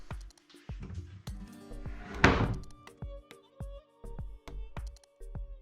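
A plywood cabinet door is fitted into place on built-in furniture for a tiny home: a string of sharp wooden knocks and thunks at an uneven pace, with one louder clatter partway through.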